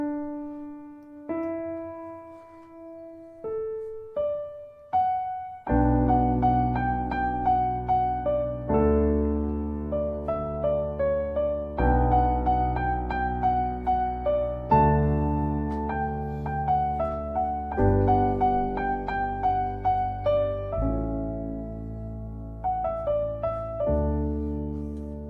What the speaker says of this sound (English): The piano bit then sounds like this.